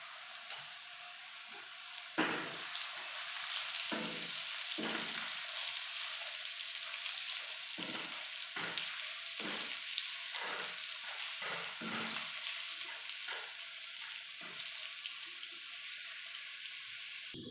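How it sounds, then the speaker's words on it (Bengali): Potatoes with turmeric fry in hot oil as a steady close sizzle, broken by repeated scraping stirs of a spatula in the pan. "আলুটা ভাজা ভাজা হয়ে গেছে, এবার আমি এটাকে তুলে নেব।"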